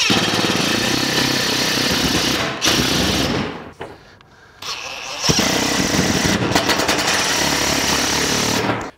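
Power driver fastening flashing onto a standing seam metal roof at the head wall, loud buzzing runs broken by a short pause, close up with no talk.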